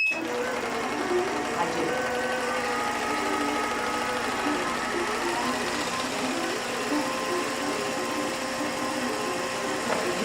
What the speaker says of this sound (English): I may want to speed up my machine slightly to get a shorter stitch length